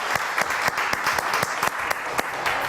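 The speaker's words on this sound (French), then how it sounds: "je vous demande d'applaudir très très fort" A studio audience applauds a guest singer as a continuous patter of many hands, with several sharper, louder claps from nearby standing out in the wash.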